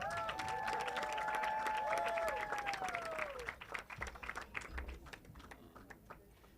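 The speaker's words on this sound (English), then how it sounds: "Big round of applause for Nina." An audience gives a round of applause for a speaker at an event, starting with sustained clapping alongside a ringing tone and then thinning into scattered claps, moderately loud in a hall.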